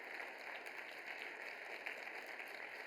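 A conference keynote audience applauds standing volunteers, a dense, even wash of many hands clapping at a distance, faint and steady throughout with no voices over it.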